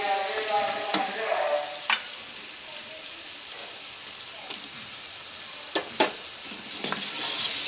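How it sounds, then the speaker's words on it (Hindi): Spices such as turmeric and coriander powder fry in a pan with tomatoes for a mutton curry, a steady close sizzle with occasional stirring scrapes and clinks of a spoon against the pan. "इसको हम 2 से 3 सेकंड के लिए भून लेते हैं"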